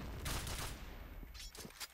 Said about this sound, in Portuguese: Eu levei o tiro.